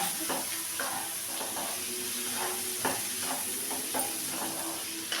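Prawn masala curry being stirred in a sizzling pan, with repeated scraping strokes of a spoon against the metal at a steady rhythm over a constant close frying hiss.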